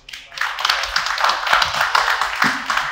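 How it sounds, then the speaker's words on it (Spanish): An audience at a live romantic vallenato concert claps and applauds, a dense burst of close hand claps lasting a few seconds. "Un aplauso para Ricardo"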